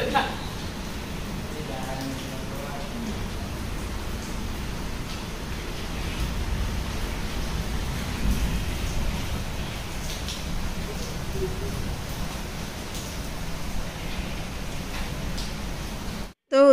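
Light drizzling rain makes a soft, steady, even hiss during a stormy spell, heard outdoors and continuing without a break for the length of the clip.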